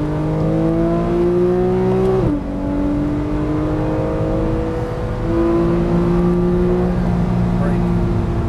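A 2012 Porsche 991 Carrera S accelerates on a track, its engine note climbing steadily, dropping briefly at a gear change, then rising again, loud and close throughout, with an instructor talking over it.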